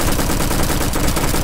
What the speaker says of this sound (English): I just wanted to show off the new Uzi weapon that will be coming to Bad Business